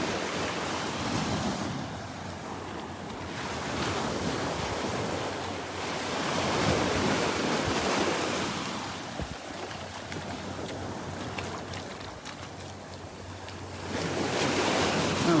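Surf and steady wind on a beach at Delnor-Wiggins with an easterly breeze and a high tide, broad continuous roar with rolling swells of breaking waves, heavy wind buffeting the microphone, no voices.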